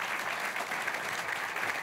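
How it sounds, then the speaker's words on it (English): An audience at the FameLab International science talk final applauds and cheers, a dense continuous clatter of many hands throughout, steady and moderately loud, with no talk over it. "Can we send them on their way with some applause and cheering"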